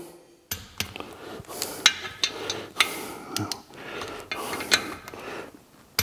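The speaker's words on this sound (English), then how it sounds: "So we're gonna go ahead and torque them now." Torque wrench tightening clutch pressure plate bolts on a flywheel, heard as a series of sharp metallic clicks and clanks spaced irregularly over a quiet workshop background, fairly close and moderately loud.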